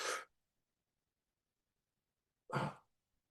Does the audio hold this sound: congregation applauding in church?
no